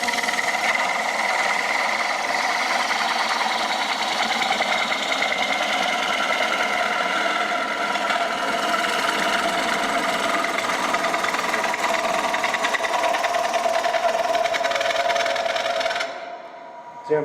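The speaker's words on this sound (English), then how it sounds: "You hear that chattering? That's because I'm losing my bevel." A woodturning lathe tool chatters against the spinning workpiece as it loses its bevel, a steady buzzing, vibrating drone that runs close and loud throughout before cutting off near the end.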